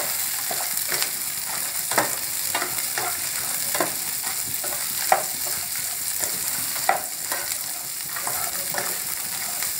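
Coriander seeds, dried red chillies and cumin dry-roast in a pan, with steady stirring scrapes and soft crackles repeating throughout, close and alone without speech.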